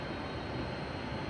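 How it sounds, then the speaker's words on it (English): Thameslink train pulling away from a platform at Stevenage station on the East Coast Main Line, a steady low rumble and broad wash of rail noise held at an even, moderate level throughout. "There's another Thameslink service on platform 4 which is arriving, as this one is now going to depart."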